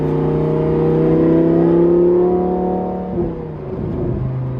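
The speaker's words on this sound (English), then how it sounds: "The downshifts are incredible." A sports car engine, either a Lamborghini Gallardo Performante or a C8 Corvette, roars loud and close, its pitch sweeping down as it blips through downshifts, then settling into a lower drone; no talk.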